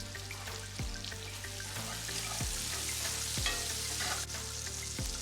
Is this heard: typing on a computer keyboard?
no